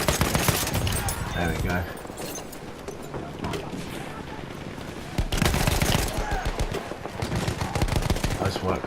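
A new weapon from the Battlefield 1 Apocalypse DLC fires loud, close bursts of shots amid surrounding battle gunfire, while someone speaks briefly over the shooting.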